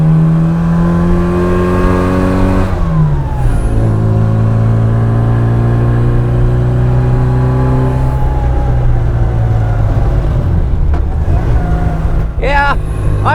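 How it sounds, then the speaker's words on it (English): A 1966 Austin Mini Cooper S driven hard, its engine loud and close, rising through the revs, dropping at a gear change, pulling again and then easing off, with no talk over it. "Yeah, I'm driving the customer's car."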